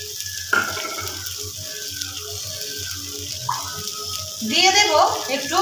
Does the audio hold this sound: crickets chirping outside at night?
no